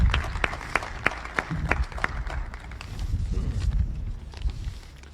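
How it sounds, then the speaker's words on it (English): An audience applauds a college president, Lane Glenn, at a November 2020 public gathering with Governor Baker: a few sharp claps at first, then denser clapping and crowd noise that swells and fades over several seconds. "Let's give him a round of applause."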